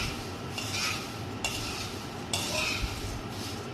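Roasted poha chevdo is stirred and tossed with salt in a pan, producing repeated dry rustling sweeps and light scraping in close, rhythmic bursts.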